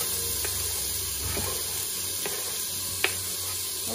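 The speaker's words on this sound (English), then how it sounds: "I do have some vegetable oil at the bottom to saute the onions." Onions sauté in vegetable oil at the bottom of an Instant Pot, giving a steady close sizzle and hiss with a few sharp utensil taps and stirring clinks.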